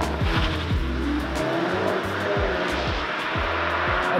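VW Polo GTI pulling hard from around 50 mph, engine note climbing through several quick gear changes with a brief dip at each shift, loud and close, with no talk over it.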